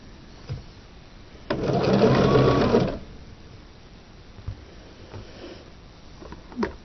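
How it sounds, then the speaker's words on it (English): A sewing machine stitches a fabric rectangle onto a quilt block in one close, steady whirring run of about a second and a half. Quiet handling and rustling of fabric come before and after it. "pick up another rectangle and sew it onto the one side of this to finish this out"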